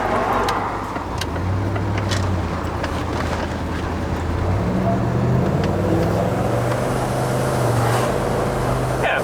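A twin-turbo 4.6 V8 Range Rover P38 pulling away under light throttle, a steady low engine drone rising gradually in pitch over several seconds, heard from inside the cabin with road noise around it.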